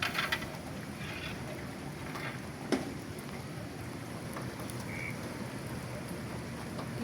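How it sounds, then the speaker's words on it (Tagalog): Soft, steady patter of light drizzle over a constant wash of floodwater noise, with one faint knock partway through. "Pero wala nang masyadong ulan. Ambon-ambon na lang."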